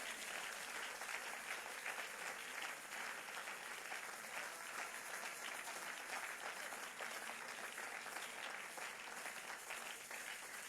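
Church congregation applauding and cheering in acclaim of God during a Sunday service, a steady dense wash of clapping sustained throughout without a break.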